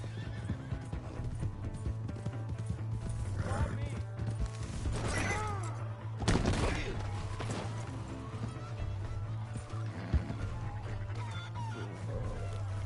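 A horse in the Red Dead Redemption 2 video game whinnies several times over a steady clip-clop of galloping hooves, with chicken clucks and occasional voices mixed in.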